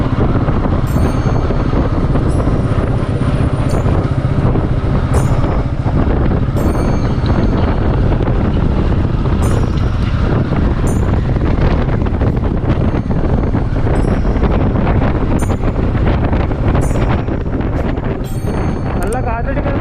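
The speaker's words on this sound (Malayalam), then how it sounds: "നല്ല കാറ്റടിക്കുന്നുണ്ടാവും, നിങ്ങൾക്ക് ഒന്നും കേൾക്കുന്നുണ്ടാവില്ല." Strong wind buffets the microphone outdoors on a hilltop trail in Wayanad, a loud, continuous rumbling roar that fills the whole stretch, with faint scattered clicks and no clear speech.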